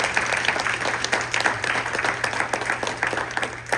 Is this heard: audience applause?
yes